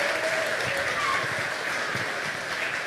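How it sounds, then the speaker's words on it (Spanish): An audience at a football club's presentation event gives a round of applause, dense clapping sustained at an even level for about three seconds, with faint voices mixed into the crowd. "Por favor, a salva de palmas para ela."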